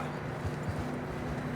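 Horse hooves clip-clop steadily in the Red Dead Redemption 2 video game as a horse approaches, a brief dense rhythm over a full, rumbling background.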